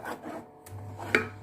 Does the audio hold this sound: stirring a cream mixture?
yes